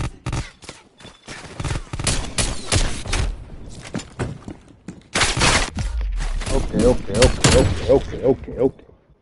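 A starter pistol fires repeatedly during a gun game match, sharp cracking shots scattered across the scene amid other game gunfire, with someone talking loudly between and over the shots.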